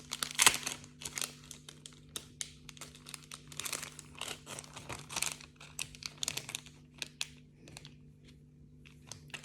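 Strips of paper crinkle and rustle close up in a run of irregular crackling bursts, some sharp, with quiet pauses between them and no voices.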